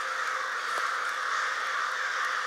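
A large flock of crows caws loudly over a swamp near a campsite, a dense, continuous chorus of overlapping harsh calls with no talking.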